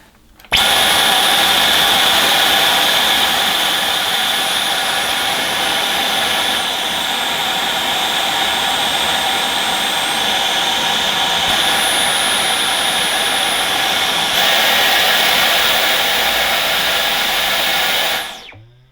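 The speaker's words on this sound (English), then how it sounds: "because of the noise of the vacuum that's quite close to the microphone" A Dyson cordless stick vacuum cleaner runs right beside the microphone, giving a loud, steady, high-pitched whine and airflow roar that holds constant for about eighteen seconds before cutting off abruptly.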